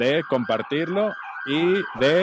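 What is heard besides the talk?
ambulance siren passing by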